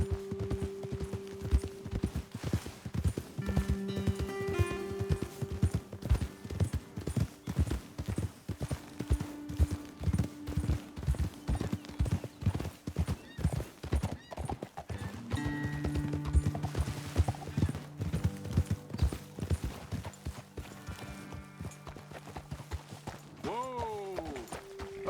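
Horse hooves clip-clop steadily through most of the scene in Red Dead Redemption 2, several horses moving at a walk, with a voice speaking over parts of it and a horse snort or whinny near the end.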